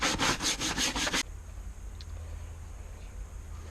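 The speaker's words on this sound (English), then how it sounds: "just start scrubbing" Brisk back-and-forth scrubbing on a dirty rubber car floor mat, six or seven quick rasping strokes close up, then stopping into a quiet room hum.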